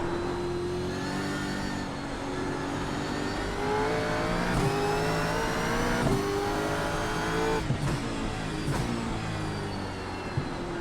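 A Gen 3 Supercar in iRacing held at full throttle on a wet track, a loud continuous engine roar with rising and falling pitch through gear changes and brief dips, filling the whole stretch with no talk.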